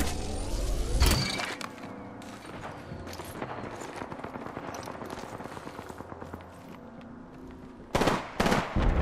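Rapid gunfire from a sci-fi shooter video game, sharp bursts and repeated shots over a busy game soundscape, with louder cracks near the start and again near the end.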